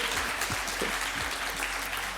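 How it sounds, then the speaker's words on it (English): An audience at a demoparty awards gala applauds steadily, a dense sustained clapping that fills the room with no break. "big round of applause"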